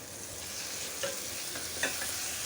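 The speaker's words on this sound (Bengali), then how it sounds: "মশলাটা ভুনা হয়ে গেছে, এখন চ্যাপাটা দিয়ে দিব।" Spiced masala frying in hot oil as dried fish (chepa) goes into the pan, a steady close sizzle with a couple of soft stirring scrapes and no talk.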